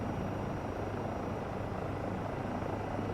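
A helicopter modeled on the Eurocopter EC135 or Bell 407 in Microsoft Flight Simulator 2024 drones on steadily, its dense rotor and engine roar holding an even level throughout with no talking.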